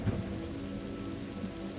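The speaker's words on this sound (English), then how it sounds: "The pulse of the rain, the quiet rhythm of the world." Steady monsoon rain falls as a dense, even hiss with no clear individual drops, continuous and close for the whole stretch, with no voices over it.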